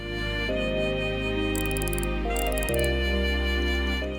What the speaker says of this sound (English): I'll turn the dial for you.